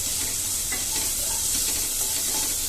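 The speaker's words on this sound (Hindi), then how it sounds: "पहले हम तेल को गरम कर लेंगे, उसमें डालेंगे कलौंजी, हींग और प्याज" Onion sizzling in hot oil with nigella seeds and asafoetida, a dense continuous hiss and crackle at close range with faint stirring, no voices.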